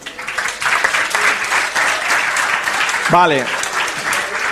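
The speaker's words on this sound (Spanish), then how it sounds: "Un aplauso." An audience claps at the close of a Christian personal-finance lecture, a steady wash of applause across the whole stretch with a brief spoken word from the lecturer over it.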